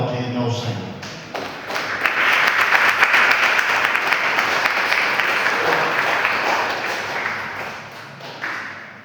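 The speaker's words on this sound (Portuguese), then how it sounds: "Pode sentar, aplaudindo ao Senhor." A church congregation applauds during a service, a sustained wash of clapping from many people that swells and holds steady for several seconds, with a voice speaking briefly at the start.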